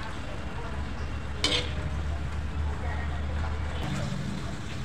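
Cauliflower florets frying in oil over a low gas flame for Gobhi Manchurian, giving a steady, even sizzle throughout with a sharp crackling burst partway through.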